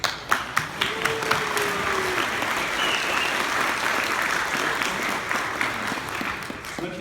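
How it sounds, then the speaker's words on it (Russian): An audience at a technical talk applauds steadily for several seconds, a dense, fairly loud wash of clapping with no voices over it. "Аплодисменты."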